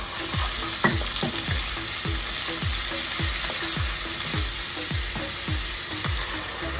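Steady loud sizzling of onion frying in hot oil with salt, with a regular series of scraping stirs throughout.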